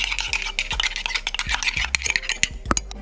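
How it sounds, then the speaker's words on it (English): Seasoned egg is stirred briskly in a bowl, a quick run of close, sharp clinks and scrapes in an uneven rhythm lasting about three seconds. "Third, then you stir the egg."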